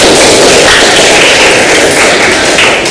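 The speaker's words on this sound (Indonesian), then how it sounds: "tepuk tangan buat kita" Classroom applause from a group of students, a loud, dense patter of many hands clapping steadily and continuously throughout, close and filling the room with no talking.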